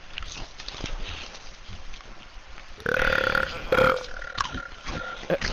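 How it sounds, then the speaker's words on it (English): A loud, drawn-out burp sounds right beside a person who is eating, a deep croaking belch rising from low murmur and background noise in the middle of the stretch. "Thanks for burping very loudly to my ear while I'm eating."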